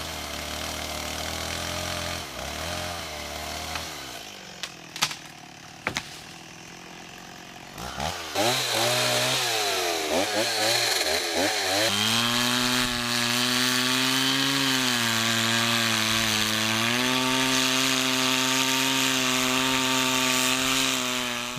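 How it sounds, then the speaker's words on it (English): A chainsaw idles, then revs up loud and steady as it bites into wood, a continuous droning cut that dominates the scene. "That's as nice a chainsaw as ever I've used."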